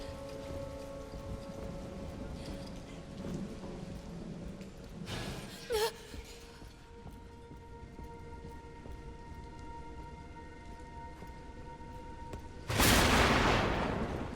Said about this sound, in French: L'orage, il est tellement fort.